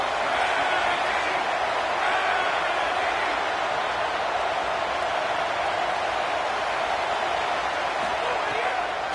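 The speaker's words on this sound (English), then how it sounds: "this home crowd getting involved right from the start" Home crowd at an LSU football game roars steadily throughout, a dense, continuous stadium din with no breaks, loud and close, filling the whole stretch.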